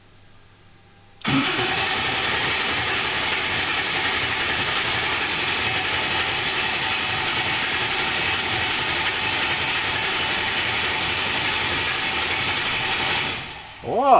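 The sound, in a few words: 903 cubic inch ProCharged engine starting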